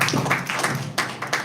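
A live audience at a tech event claps together, producing a dense, steady wash of applause with a few louder surges, lasting about a second and a half.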